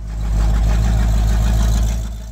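A 1979 Chevrolet Corvette V8 fitted with Fitech EFI fuel injection runs with a deep, steady low rumble that swells briefly and then eases off, close up with no talking.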